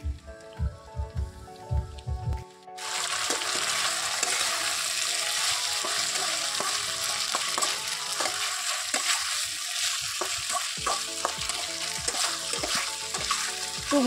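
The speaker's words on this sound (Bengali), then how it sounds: "প্রথমে ভালো করে কষিয়ে নেব, আর হালকা তেল দিয়েছি" Small pieces of meat with spices fry in a little oil in a home kitchen. A brief clatter comes first, then a loud, steady sizzle that continues throughout, broken by occasional stirring clicks.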